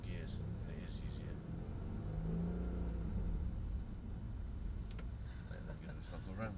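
A Mercedes-Benz E63 AMG's engine rumbles low and steady inside the car while driving on track at Mercedes-Benz World in Brooklands, swelling slightly midway, with people talking over it.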